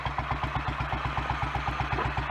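A Royal Enfield Electra X single-cylinder motorcycle engine on a test ride thumps in a steady, even rhythm of regular low pulses, close and fairly loud, with no talking.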